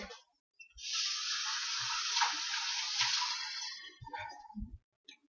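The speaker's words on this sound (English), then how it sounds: "I'm going to rinse this real quick." A pepper rinsed under a running kitchen tap, a steady close hiss of flowing water lasting about three seconds, then a few knocks and handling sounds after the water stops.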